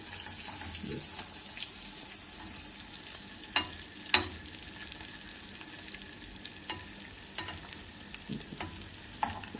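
Small fish frying in a pan, coated in chickpea flour, rice flour, salt and chili, giving a steady low sizzle with occasional sharp pops and light stirring clicks, heard alone without voices.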